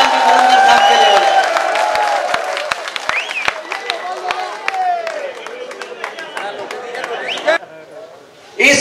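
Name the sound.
audience applause and cheering at a poetry gathering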